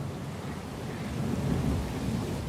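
Thunderstorm in the Pillars of Eternity II: Deadfire video game, a steady roar of heavy rain and deep rolling thunder that swells louder midway and holds, with no voices.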